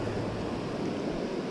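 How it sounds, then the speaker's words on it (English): A high, fast-running creek rushes in a steady, close, broadband wash of water noise that holds unbroken throughout, with no voices. "The creek is still pretty high and running pretty good."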